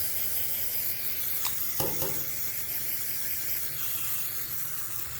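A steady, broad hiss of carburetor cleaner aerosol spray on a Generac RS8000E generator carburetor runs throughout, with a few faint clicks and knocks partway through.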